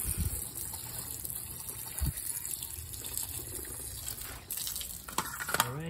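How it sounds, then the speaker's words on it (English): Water drains from the radiator of a small-body AE92 Toyota Corolla, a steady close gushing and trickling with occasional splashes and a brief clatter near the end. "Make sure all those water are drained, fully drained."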